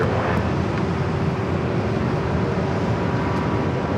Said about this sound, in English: Next arrival is Air Canada Flight 552, committed from Vancouver